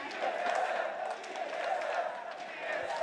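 A packed esports arena crowd at a League of Legends EU LCS playoff final roars in a steady, continuous wash of cheering, loud and sustained throughout with scattered shouts.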